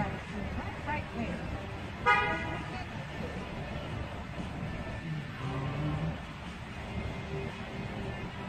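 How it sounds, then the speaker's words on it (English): A car horn honks in road traffic, one sharp loud toot standing out over the steady drone of engines, followed by faint tonal beeps, with people talking in the car. "He thinks that's him honking."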